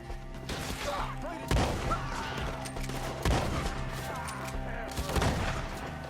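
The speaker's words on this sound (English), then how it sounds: "Shoot the ones up there first!" Gunfire in a Red Dead Redemption 2 gunfight comes in sharp repeated shots and volleys, a few louder cracks standing out over steady background action noise.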